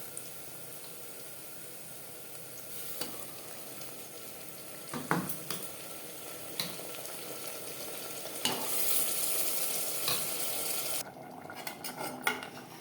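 Marinated mutton dropped onto lightly fried onions in a pan, frying over a high-to-medium flame and stirred, with steady sizzle and scattered clinks of the utensil against the pan, close and alone.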